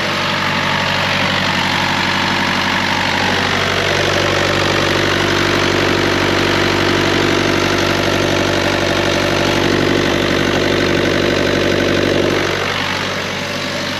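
A boat engine runs on fuel fed straight from a jerry can, idling with a steady loud low drone and vibration throughout, alone without voices.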